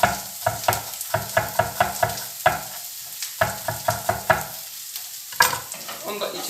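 Onions and carrots frying in oil in a pan for a pasta sauce, a steady sizzle broken by a run of rhythmic, close knocks and clacks from stirring or chopping.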